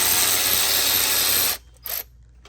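A ratchet wrench loosens a 10 mm bolt on the throttle body adapter at the intake hose of a gas EFI EZGO golf cart. Loud rapid clicking runs close up for about a second and a half, stops, then a short burst follows.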